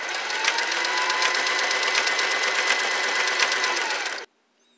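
A Singer Simple 3337 sewing machine stitches steadily for about four seconds, a dense, continuous mechanical whir with a regular needle rhythm, close and fairly loud, then stops abruptly into silence.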